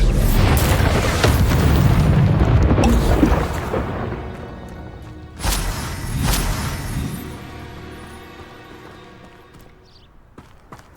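Expulso blast spell explosions in a hard-mode battle in the video game Hogwarts Legacy: a loud rumbling boom sustained for several seconds, then a second sharp blast with a decaying roar fading toward near silence.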